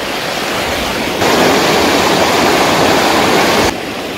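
A Scottish river flows over rocks in a steady, close rushing wash that swells louder for a few seconds in the middle before easing back.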